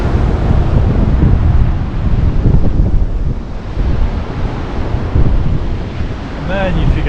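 Ocean surf rolling onto the beach at St. Andrews State Park, a loud, continuous wash of breaking waves with heavy wind rumble over the microphone.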